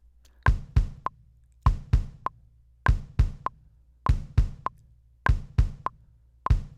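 Punchy electronic kick drum hits from unquantized MIDI repeat in uneven pairs and clusters, their timing loose and irregular rather than locked to a steady beat.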